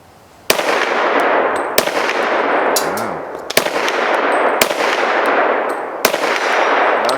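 Five loud, close rifle shots from a hard-hitting gun being test fired outdoors, each a sharp crack with a long ringing decay, spaced roughly a second or more apart.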